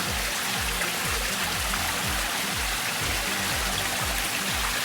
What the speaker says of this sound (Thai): องค์ปู่นะคะตอนนี้ก็มีน้ำตก ให้องค์ปู่นะคะมีน้ำตกให้